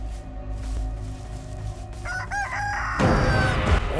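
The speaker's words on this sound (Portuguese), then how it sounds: "Olha o tamanho dessa galinha, galera." A game rooster crows loudly in the Chicken Feet horror video game, a rising, wavering call partway through over a dark rumbling ambience, followed by a harsh burst of noise and scuffling; nobody speaks.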